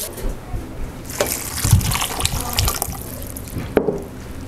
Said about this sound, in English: And then I'm going to add a quart of water.